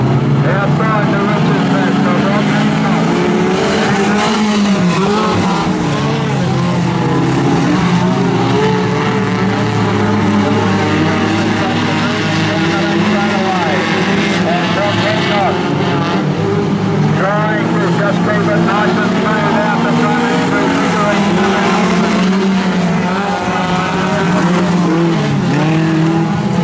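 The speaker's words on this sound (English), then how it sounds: "The National 4's locking themselves around a little bit in the feature race." National 4s speedway cars in the feature race final at Maryborough Speedway, a loud, continuous roar of engines with bursts of tyre squeal and sliding, while a commentator talks over the racing throughout.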